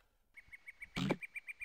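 Frog croaking in the Zoombinis video game: a steady run of short, evenly spaced chirpy croaks, with one louder, fuller burst of sound partway through.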